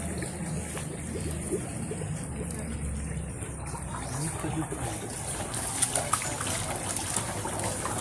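Water running from a shower at a Kawa hot bath, a steady broadband wash under the outdoor ambience, with people talking over it throughout.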